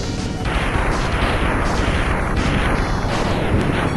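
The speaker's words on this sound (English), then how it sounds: "Avoid all the bombs." Bombs bursting in the Mega Man X game, a steady roar of overlapping blasts and crashes that stays loud and dense throughout with no talk.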